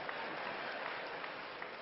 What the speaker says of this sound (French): Applaudissez pour 5G.